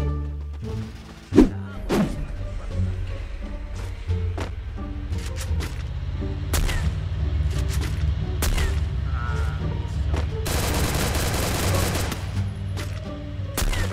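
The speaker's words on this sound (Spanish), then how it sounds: "Están disparando." Gunfire in the Free Fire video game: scattered sharp shots and short bursts crack over a steady low rumble, with a loud dense burst of rapid fire near the end.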